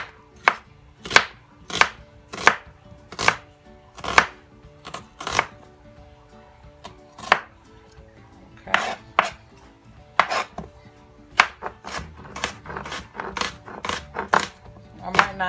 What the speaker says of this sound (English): This one a little thick, so I'm going to cut this in half a little more